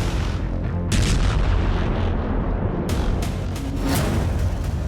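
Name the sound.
bunker buster bomb explosion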